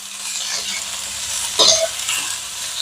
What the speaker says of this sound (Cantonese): 咁而家我哋爆緊嘅同時咧，就準備落啲醬落去爆香佢